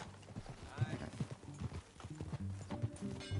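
Horse hooves clip-clopping on a trail in Red Dead Redemption 2, a steady rhythmic walking gait with occasional snorts, faint beneath ongoing dialogue between riders.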